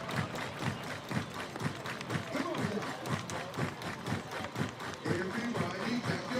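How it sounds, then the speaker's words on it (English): A baseball crowd at a summer-league playoff game claps in scattered, uneven bursts, a faint distant patter of hands under crowd murmur and the public address. "Everybody clap your hands."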